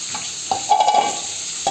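Potatoes and pointed gourd fry in a pan with a steady hiss and sizzle, broken by a few brief stirring scrapes, close up and with no voices.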